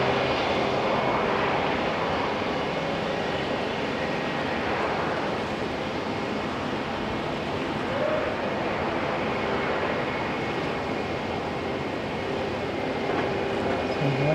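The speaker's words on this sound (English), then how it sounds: "Jetstar overtaking Air New Zealand. Jetstar in the old school A320 CEO" A Jetstar Airbus A320ceo airliner taxis at the airport, a steady distant engine rumble and hum with a faint whine, continuous at moderate level.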